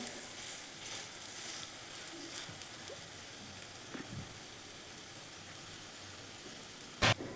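Grated raw potato snack cooking on a hot tava griddle, a steady soft sizzle running throughout with a few small pops and one sharp louder crackle near the end.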